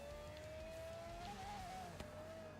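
A Fiat Dino 2.4 Coupe drives in Forza Horizon 3, its engine a steady droning hum with a slight rise and fall in pitch, heard at moderate level with no talk over it.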